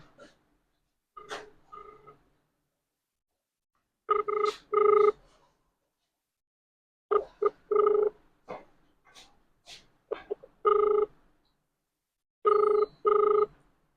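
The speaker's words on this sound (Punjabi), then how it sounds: "ਲੈ ਰਿੰਗ ਸੱਜਣੋਂ ਜਾਈ ਜਾਂਦੀ" A phone call rings out in repeated double bursts of a clear electronic ringing tone, each pair separated by short silent gaps, loud and close with no talking.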